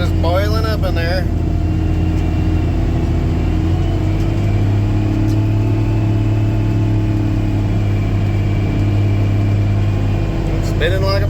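A farm tractor's engine rumbles loud and steady in a low drone with its tires spinning while moving dirt, and someone talks briefly over it at the start and end.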